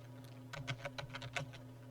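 Keystrokes on a computer keyboard while entering text into an Excel spreadsheet, a quick run of about a dozen close, crisp clicks over a steady low hum, no voices.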